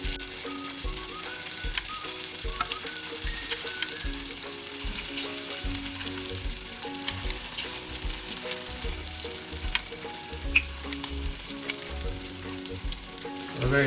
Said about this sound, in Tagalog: So, mag-fried na tayo ng ating spring roll papaya.